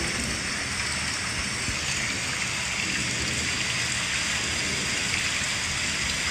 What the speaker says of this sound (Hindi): घनघोर बारिश शुरू हो गई।